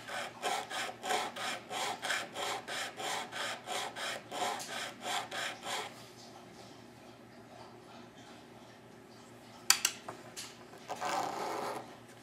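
Wooden fiddle pegs being sanded flat, a rhythmic series of about a dozen scratchy back-and-forth strokes close up, then quiet handling with a couple of sharp knocks and a brief final rub.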